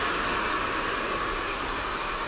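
A hair dryer blows steadily while short hair is wrapped and styled around a brush, a continuous airy roar heard close up and alone, with no speech.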